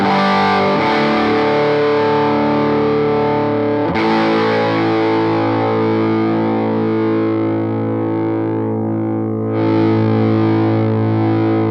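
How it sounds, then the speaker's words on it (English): Heavily distorted electric guitar through a Bluguitar Amp1 tube amp with the master on 10, sustained saturated chords ringing loud and thick, with a couple of fresh strums and a slight fade near the end. "now the master is on 10, and you can hear how the tubes are really cooking"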